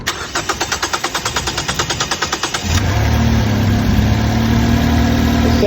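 Car engine cranks with a rapid rhythmic starter chug, catches and settles into a steady, loud idle after a throttle body replacement, heard up close with no talking.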